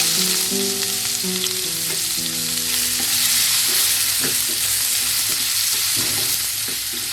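Chopped onions sizzle in hot oil with bay leaves, cloves, green cardamom and cinnamon while being stirred for a quail curry, with a steady loud frying hiss, scraping stirs and a few clinks throughout.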